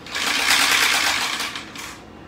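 Vacuum cleaner being run roughly as it is demolished, a loud harsh whining roar with a gritty, strained edge that surges and then tails off over about two seconds.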